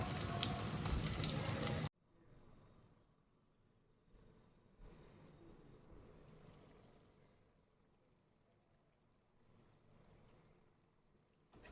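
Goat head curry with turmeric and mutton cooking in a pan, a soft steady sizzle and bubbling that stays fairly quiet after a louder opening burst, with no talk.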